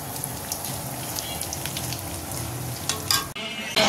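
Potato chops (aloo chop) fry in hot oil, a dense crackling sizzle with fine popping, steady throughout before a brief clatter near the end.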